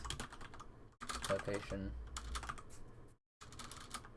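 Keys clatter on a computer keyboard in quick close bursts, with a brief pause before typing resumes, while someone speaks quietly over parts of it.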